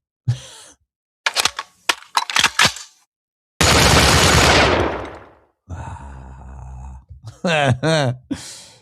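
A voice imitates gunshots with clipped popping bursts and a long hissing blast, mixed with spoken and drawn-out vocal sounds.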